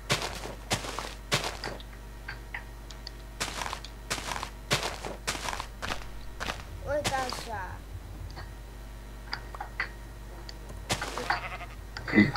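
Sheep in the video game Minecraft bleat several short times amid game footsteps and clicks, fairly faint and spread across the scene, while players talk over it.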